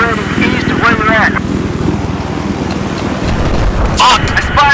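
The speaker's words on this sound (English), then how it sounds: "There's an enemy helicopter operating east of where we're at." An enemy helicopter's steady rotor drone runs throughout in Battlefield 4, with a voice talking over it and brief bursts of other activity.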